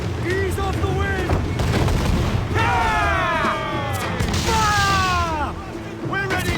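Pirate ship cannons boom in a noisy battle scene, with heavy gunfire blasts mixed among shouting voices, whistling and swooping tones over several seconds, loud and dense.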